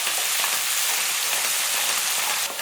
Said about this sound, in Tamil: இதுலேயே வந்து நான் முந்திரி பருப்பு சேர்க்குறேன்